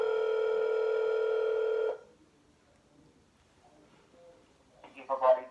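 Steady telephone tone, loud and unbroken for about two seconds, cuts off into near silence, followed by a short burst of faint voice near the end as a phone number is dialed to call scammers.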